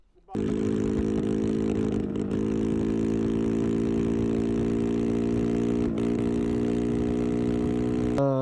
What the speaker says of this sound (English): The throttle, it spins too far forward, and when I get to a certain point, it just starts like cutting out with.